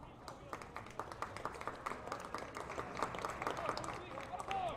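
A crowd at a college baseball tournament game applauds an injured player as he returns to first base, steady scattered clapping with some talk mixed in throughout.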